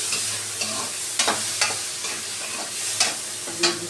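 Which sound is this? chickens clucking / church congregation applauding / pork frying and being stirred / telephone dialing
pork frying and being stirred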